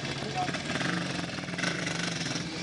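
A German Horex Regina 3.5 four-stroke motorcycle runs steadily nearby at a vintage motorcycle event, its continuous engine drone filling the clip with crowd noise and chatter beneath it.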